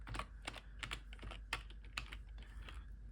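Keys tap on a computer keyboard, typed one-handed, in quick irregular clicks, quiet and close with no voices.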